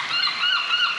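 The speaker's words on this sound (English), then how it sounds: "lots of seagulls" Seagulls call in a seaside town street, a steady cluster of overlapping bright squawking cries heard at moderate distance throughout, with no talk.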